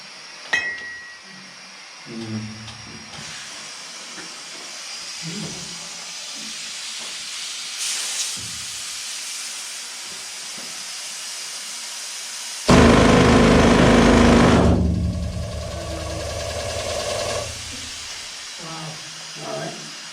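A pneumatic drilling machine with six-foot drill steel runs deep in an underground gold mine, a steady hiss with a loud roaring burst of drilling partway through, while people talk before and after.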